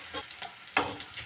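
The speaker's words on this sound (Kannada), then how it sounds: "ಈಗ ಸ್ವಲ್ಪ ಈರುಳ್ಳಿ ಫ್ರೈ ಆಗಲಿ" Onions frying in a pan for an egg mandakki (puffed rice) seasoning, a soft sizzle with light stirring and one brief louder scrape or crackle near the middle, fairly faint and with no talk.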